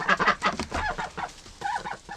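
Ducks kept for breeding, some with frostbite, calling in their pen: a run of loud nasal quacks and honks from several birds close by, irregular and overlapping, with no talk.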